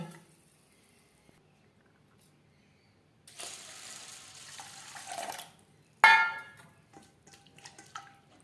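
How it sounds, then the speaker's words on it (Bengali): Masoor dal (red lentils) being rinsed in water in a home kitchen, a soft close swishing and trickling that runs for a couple of seconds, then a sharp clatter of a pot or bowl followed by lighter knocks and splashes, with no talking. "সবার প্রথমে আমি ডাল পরিষ্কার করে ধুয়ে নেব"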